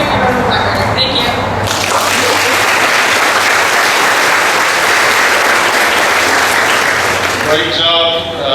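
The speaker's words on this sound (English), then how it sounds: "Audience, could we give them another round of applause?" Loud, dense applause from a crowd at a ceremonial send-off event, steady for about eight seconds with a few whistles at the start and end.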